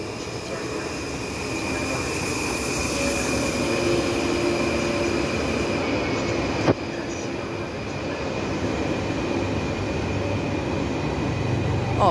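A Flirt 3 passenger train arrives at a Polish station, making a steady rolling rumble with a high squealing tone from the wheels and one sharp clank midway.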